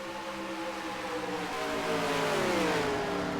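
Race cars in NASCAR Racing 2003, a steady engine drone with rising pitch as the pack accelerates, continuous and fairly close, with no talking.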